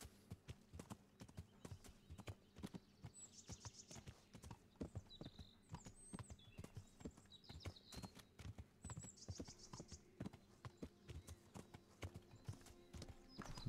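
Horse hooves clip-clopping in a steady walking rhythm in the video game Kingdom Come Deliverance, with occasional birdsong above and no talk.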